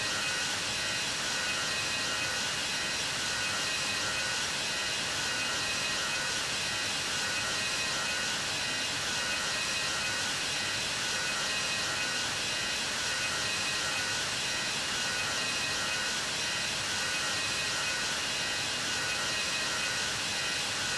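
A Virgin Atlantic Airbus A340-600 landing at London Heathrow produces a steady, wide jet roar that holds evenly for the whole stretch without any clear peaks.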